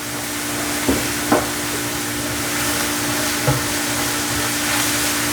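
Vegetables sweating in a hot pan for meatloaf, giving a steady soft sizzle with a few light clicks and stirring knocks, close and alone with no talk.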